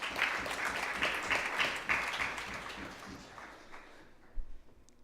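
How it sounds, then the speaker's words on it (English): Applause from the audience at a youth sitting of the Assembly legislature, a dense patter of clapping that holds steady for about four seconds and then stops abruptly, leaving a near-silent tail. "A round of applause."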